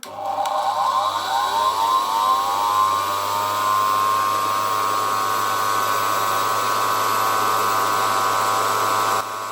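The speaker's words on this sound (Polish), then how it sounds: "Zróbmy jeszcze pierwszy test silnika na zmniejszonym napięciu." A 1978 Zelmer type 95 vacuum cleaner motor, run on reduced voltage, whirs up to speed and then runs with a steady, whining hum, close and fairly loud, until it cuts off at the end.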